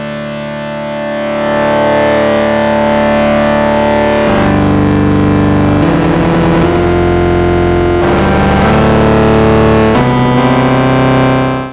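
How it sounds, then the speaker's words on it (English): Prophet 12 synthesizer run through an analog stereo distortion unit, playing loud sustained chords with gritty, buzzy harmonics that shift every couple of seconds, alone with no talking. "We also have an analog stereo distortion unit on the mix."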